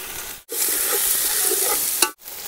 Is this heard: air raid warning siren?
no